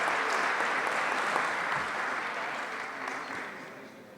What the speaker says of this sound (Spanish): Vamos a renovarle el aplauso al doctor Espinosa